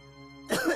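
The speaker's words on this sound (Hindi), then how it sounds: "अंदर मुझे बहुत खांसी आ रही थी" A single short, close cough, a sharp throaty burst after a quiet lead-in.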